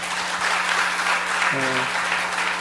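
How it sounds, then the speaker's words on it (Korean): A church congregation at a Korean ordination thanksgiving service applauds in a steady, dense wash of clapping, with a brief voice rising over it partway through. "다시 한번 우리 하나님께 영광의 박수 올려드리겠습니다."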